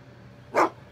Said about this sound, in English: Stinking dog barking outside.